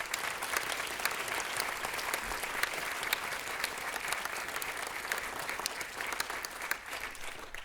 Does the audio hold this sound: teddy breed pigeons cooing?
no